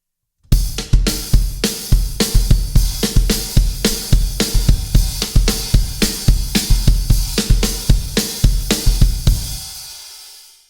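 A drum kit plays a steady groove with the hi-hat on quarter notes alongside kick and snare, a loud, evenly pulsing rhythm for about ten seconds with no talk, ending in a decaying ring.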